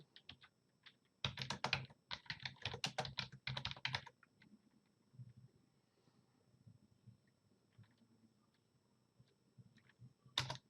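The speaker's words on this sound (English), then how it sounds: "Here you can type in some labels." Quick bursts of close computer keyboard typing as labels are entered, a busy run of clicking keystrokes followed by quieter scattered taps and one last short burst at the end.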